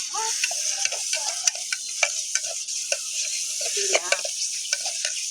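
Fish curry ingredients sauté in a pan over a wood-fired stove, a steady close sizzle broken by frequent clicks and scrapes of stirring, with no talk.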